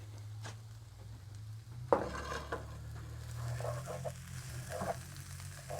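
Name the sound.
stirring brisket and onions in pan over fire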